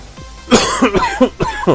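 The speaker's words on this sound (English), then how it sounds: "I'm just freaking tired of coughing" A close, loud fit of several harsh coughs in quick succession, one after another.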